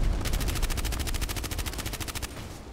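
A close, loud burst of rapid automatic fire in Contract Wars, about twenty evenly spaced shots in a steady rhythm, then an abrupt stop.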